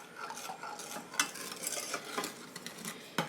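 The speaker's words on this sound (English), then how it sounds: "you're going to stir this all together nicely" A spoon stirs a white vinegar mixture in a pot, making close, uneven scraping and clinking against the metal with soft, wet swishes in between, and no voices.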